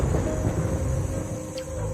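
Loud thunderclap sound effect, a deafening sustained rumble filling the whole short span with no voices.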